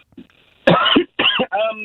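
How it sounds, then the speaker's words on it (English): A person clears their throat in a few loud, gravelly bursts, close to the microphone, with brief pauses between them. "Clear your throat before making your contribution."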